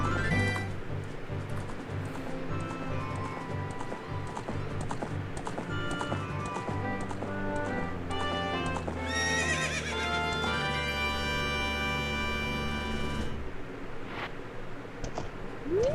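In Ocarina of Time, a horse's clip-clop hooves gallop against game music. A shrill neigh and whinny rise out of the mix partway through, then the music carries on alone.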